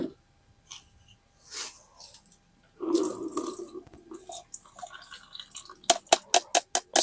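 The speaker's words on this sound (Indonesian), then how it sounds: "kita tuangin dulu ya, kita tiriskan dulu" Water poured off and drained from papaya seeds before sowing, splashing and trickling at close range, then a run of sharp drips and glassy taps toward the end, with no voices.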